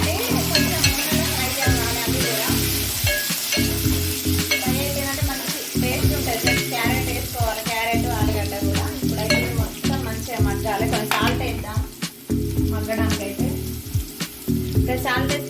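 Tomato paste masala fries in a pan for a chickpea curry, giving a loud, steady sizzle with frequent stirring, set against a persistent tonal background.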